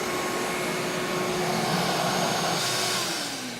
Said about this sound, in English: I don't know if the vacuum cleaner worked or not.